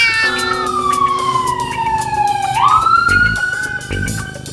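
A police siren wails loud and near, its tone sliding down and then rising again, while a cat's meow blends into the sweep and short thumping sounds break in late.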